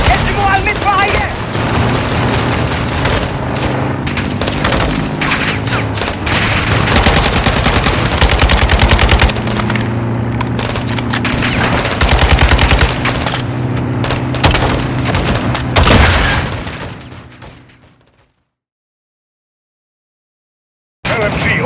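Sustained light machine gun fire in the video game Call of Duty Modern Warfare II: dense rapid bursts with booms for about seventeen seconds, loud and close, then fading to silence before a brief return.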